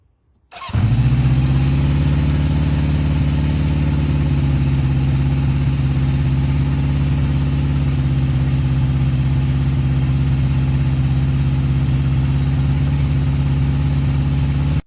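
A 1970s Honda CB750 motorcycle engine starts and then settles into a steady, loud idle, with a deep even rumble that holds near the listener for the rest of the clip.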